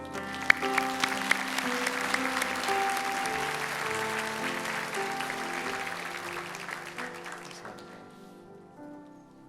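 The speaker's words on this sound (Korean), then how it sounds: "우리 박수로 환영하고 축복하도록 하겠습니다" A church congregation claps in sustained applause, a dense patter of many hands that fades gradually toward the end while an organ or keyboard plays softly underneath.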